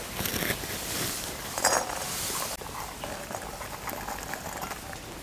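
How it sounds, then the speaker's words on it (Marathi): Cluster beans roast in a kadai over a wood-fired chulha, giving a steady close hiss and crackle with brief bursts of louder sizzling and faint clinks. "गवारी आहे ना आपण आता भाजून घेऊया."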